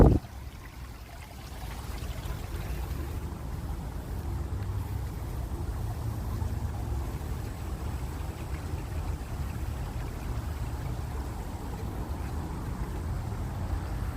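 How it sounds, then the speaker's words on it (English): A steady, gentle rush of trickling water from a small waterfall into the Alfred Caldwell Lily Pool in Chicago, continuous and even like a small cascade, with no voices over it. "There's the waterfall."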